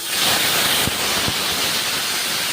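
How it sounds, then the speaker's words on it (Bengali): Green chillies fry in a pan with a loud, steady sizzle and hiss, broken by a few soft low thumps. "ভেজে নিচ্ছি কাঁচা লঙ্কা ভেজে নিলাম"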